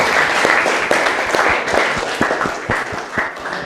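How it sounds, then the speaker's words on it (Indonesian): A classroom audience applauds group 1 after their presentation, a brief burst of many hands clapping in quick, uneven rhythm, close and fairly loud, holding steady before easing slightly at the end. "Beri aplaus untuk mereka semua."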